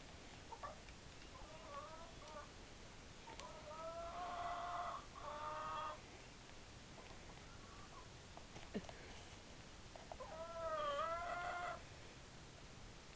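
Chickens cluck and squawk in short bursts at a moderate distance, with quiet background noise between the calls.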